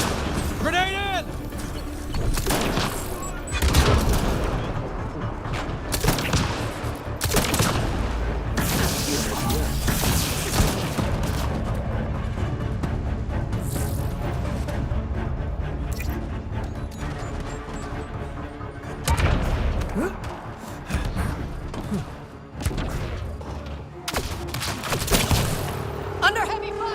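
Heavy gunfire and explosions in a Mass Effect: Andromeda firefight, dense continuous bursts and booms layered with mechanical clatter, loud and sustained throughout with a few sharper peaks.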